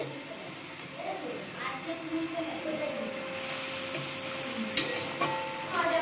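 Spice paste for Bengali shukto sautéed in a pan with potatoes, bori and fried vegetables such as eggplant and bitter gourd: a steady close sizzle with scraping stirs throughout, a sharper clatter near the end, and a faint voice at times.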